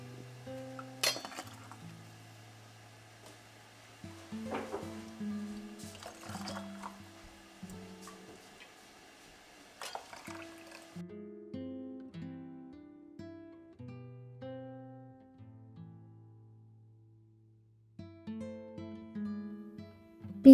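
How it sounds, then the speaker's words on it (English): Broth is ladled through a funnel into glass canning jars for pressure canning, giving intermittent clinks of metal against glass and soft pouring splashes in bursts separated by quiet pauses. "Using a funnel and a ladle, I'm going to go ahead and begin filling up my jars with the broth"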